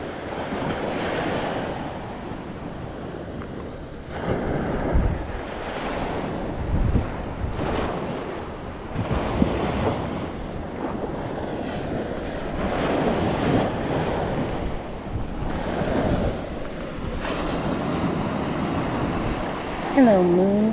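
Ocean surf breaking on the beach at Egmont Key, with repeated washes of waves rising and falling over twenty seconds, mixed with gusty wind buffeting the microphone.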